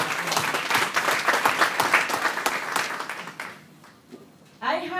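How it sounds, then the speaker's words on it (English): Audience applause fills a community college hall at an African women empowerment event, dense steady clapping for several seconds that fades out before a voice speaks at the end. "We have to give you applause."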